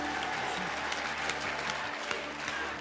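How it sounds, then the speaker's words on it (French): An audience at a Christmas charity evening for Les Restos du Cœur applauds Hakim, a continuous wash of distant, even clapping from a large crowd. "Je voudrais qu'on applaudisse très très fort Hakim."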